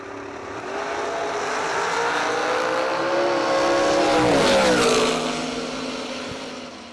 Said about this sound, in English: Win light will go to Steve Hedger Jr. on that pass